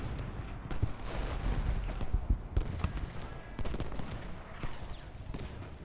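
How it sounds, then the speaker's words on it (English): Crackling volleys of musket gunfire aimed at an artillery piece in the Civil War strategy game Ultimate General: Gettysburg, a dense rattling din of overlapping shots with occasional louder pops, continuous and fairly distant. "Still standing there shooting at that one artillery piece."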